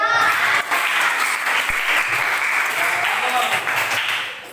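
A class claps together after a group presentation, a dense, loud burst of hand claps that holds steady for several seconds and then tapers off at the end.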